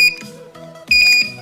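An Arduino door lock alarm sounds after a wrong password entry: bright, loud electronic beeps in a repeating on-off pattern, with a brief pause in the middle before resuming.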